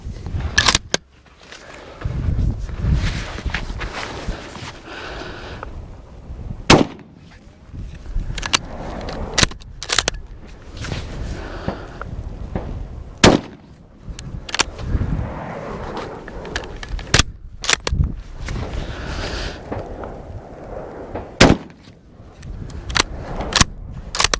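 Gunshots from a Lorcin .380 pistol and an 8mm Mauser rifle: sharp, loud cracks scattered irregularly through the clip, about a dozen, over outdoor rustling and handling noise.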